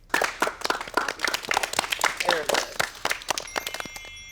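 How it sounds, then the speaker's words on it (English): A small group claps in quick, uneven bursts, close by, with a few voices chattering over the clapping. "Why don't we give ourselves a round of applause for doing great today?"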